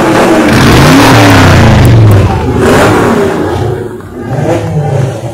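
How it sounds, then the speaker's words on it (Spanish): A V8 coupé engine revs loudly and close by at the start of a regularity car rally in Argentina. Deep surging roars rise and fall over about five seconds. "otra Coupé impresionante, motor V8, rugiendo"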